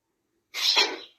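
A single sharp sneeze bursts out close up against a silent background. It lasts about half a second and trails off quickly.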